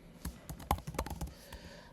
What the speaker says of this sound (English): start typing in the word median